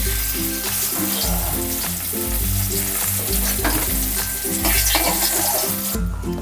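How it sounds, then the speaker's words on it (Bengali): Fried eggplant sizzles loudly in hot oil as it is lifted out, a steady crackling hiss layered over a rhythmic tonal musical backing. "বেগুনটা আমি এবার তুলে নেব, তেলটাকে ঝরিয়ে নেব"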